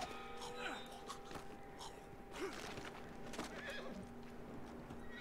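A horse whinnying and clip-clopping in the Red Dead Redemption 2 video game, a few close neighs over hoofbeats and faint game ambience.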